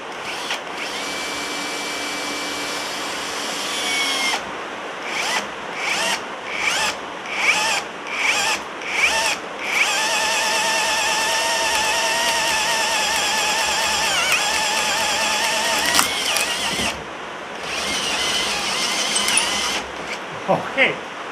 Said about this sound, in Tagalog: Tingnan natin kung kakayanin niyang butasin tong 2x4 na to gamit itong drill na ito.